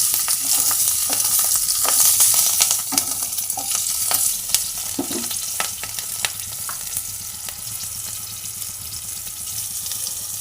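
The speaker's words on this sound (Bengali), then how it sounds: "কালো জিরে ফোড়ন দিলাম, কেটে রাখা কাঁচা লঙ্কা" Nigella seeds and chopped green chilies crackle and sizzle in hot oil in a pan for a Bengali fish curry, a steady loud frying hiss with scattered sharp pops and occasional utensil scrapes.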